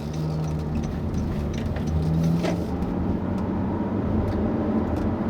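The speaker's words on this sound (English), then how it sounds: "what you will notice is the engine's rather unpleasant and unrefined noises that it makes." Engine of a 2016 Honda HR-V droning steadily while driving, a coarse, unrefined low hum with road noise that rises slightly midway and holds without a break.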